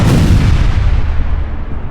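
A loud, booming explosion effect from a landmine blast in a comic adventure story, a dense low rumble that fills the whole moment and slowly fades, with no voices over it.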